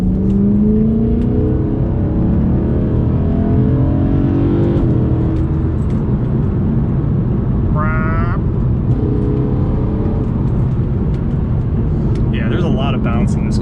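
Supercharged BMW E90 M3 carries a steady engine drone and rising supercharger whine through a long ridealong stretch, with people talking over it throughout.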